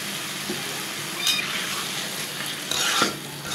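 Potatoes and onions sizzle in a pan of pangas fish masala, a steady close frying hiss with a couple of brief stirring scrapes.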